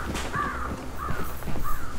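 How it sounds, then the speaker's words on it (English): Crows cawing in the video game Hunt: Showdown, three drawn-out harsh caws spaced across a couple of seconds over a low rumbling outdoor ambience, no talk. "Ignore the crows!"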